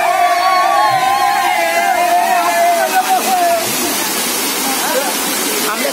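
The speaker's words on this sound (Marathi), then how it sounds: "एक वॉटरफॉल आम्हाला दिसलेला" JummaPatti Waterfall roars as a dense, steady wash of falling water, loud and close throughout, while people talk and shout excitedly over it, with a voice rising and falling in the first half.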